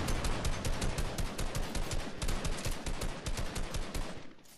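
Rapid automatic gunfire from a video game shooter, including a Barrett rifle, crackles in a dense, sustained burst of sharp cracks. It is loud, continuous and close, with no talking.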